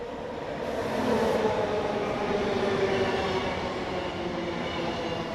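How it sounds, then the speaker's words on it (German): A train approaches and rolls past, a steady, fairly loud rumble of wheels and rail noise that swells slightly and holds throughout, with no voices over it. "Der Zug kommt."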